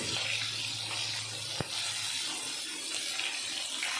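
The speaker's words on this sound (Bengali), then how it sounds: "তেল ভালো মতন গরম হয়ে গেল, আমি এখন দিয়ে দিলাম মেখে রাখা মাছ।" Marinated tilapia fries in hot oil with an even, hissing sizzle and a single sharp clink partway through.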